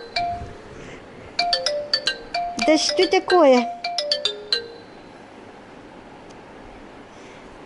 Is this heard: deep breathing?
no